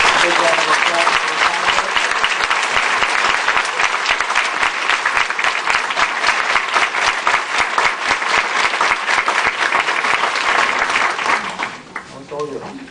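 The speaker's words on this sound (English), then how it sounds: "I want to please big round of applause for" An audience at a Latina leadership summit gives a panel sustained, loud applause, dense clapping that continues for about eleven seconds before tapering off as a voice begins to speak.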